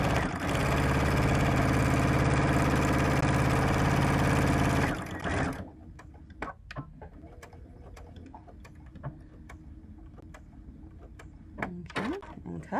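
Sewing machine stitching a seam on a candy-print zipper pouch, a steady loud mechanical whir running continuously for about five seconds, then stopping abruptly and leaving quiet room sound with faint scattered clicks.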